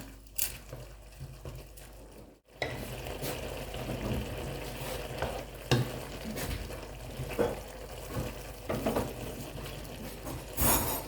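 Instant Korat noodles are stir-fried in a pan until the liquid cooks off, with wet bubbling and sloshing, scraping and occasional metallic clanks close by, broken by a short silence early on.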